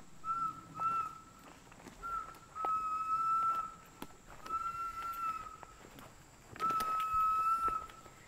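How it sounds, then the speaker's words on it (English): A rescue whistle blown outdoors in repeated bursts, about five sustained shrill blasts of roughly one second each with short pauses, fairly loud and carrying over faint ambient background. "Blowing her whistle."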